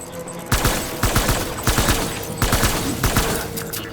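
Automatic gunfire from the video game Death Stranding crackles in several rapid, loud volleys, each burst a quick string of sharp shots separated by brief pauses.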